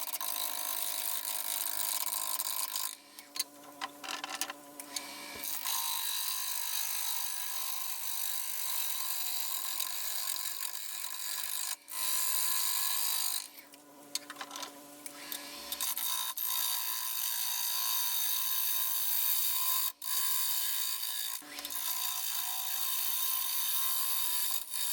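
A pecan bowl spins on a wood lathe, a steady close scraping and whirring hum with brief catches and dips as the tool engages the wood, no voices present.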